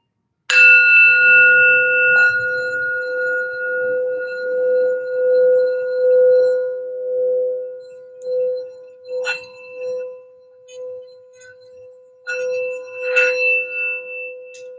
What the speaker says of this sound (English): I'm going to do a quick healing bell here, sound bell for healing and grounding for the reading